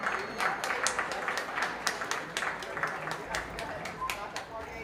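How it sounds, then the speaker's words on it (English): Steady applause from an audience at a junior fair dairy show, many hands clapping together in a sustained, even roar. "Give them all a big round of applause for a tremendous job today."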